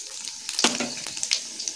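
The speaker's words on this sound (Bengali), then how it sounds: "তেল গরম হয়ে গেছে, তো এই তেলেই আমি ফোড়ন দেবো।" Two dry red chillies and panch phoron tempering in hot oil give brief, scattered pops and crackles over a soft hiss, close and short.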